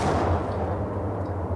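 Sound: M79 grenade launcher firing in Max Payne video game

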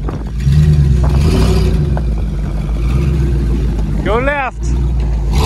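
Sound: vehicle engine revving, ATV versus 2020 Ford F150

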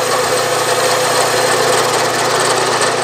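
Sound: lathe power feed running and clicking off

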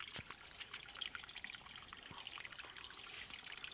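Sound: water flowing continuously from a spring

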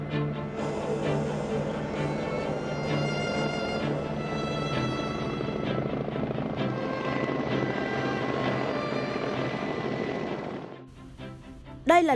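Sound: Russian Ansat and Mi-171A2 helicopters flying display

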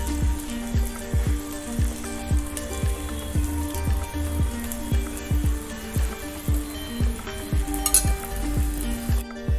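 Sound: thalipeeth frying in oil on pan

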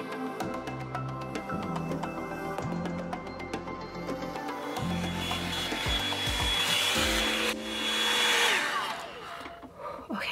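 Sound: Revlon One-Step Volumizer hair dryer running

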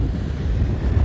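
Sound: strong wind at the beach

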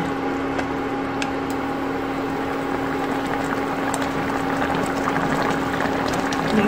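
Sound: braised tofu and pork sauce simmering in pot

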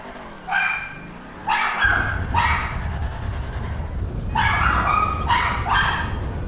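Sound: dog JJ barking

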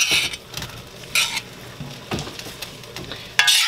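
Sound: green beans and broccoli sauteing in sesame oil

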